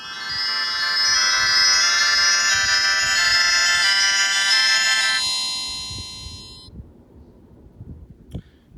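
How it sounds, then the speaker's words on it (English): A short electronic melody of bright tones plays for several seconds as a Superscope Storyteller cassette player shuts down, then cuts off, followed by quiet and a faint click. "You have to hold it for 2 seconds, and you'll see a message that says bye-bye."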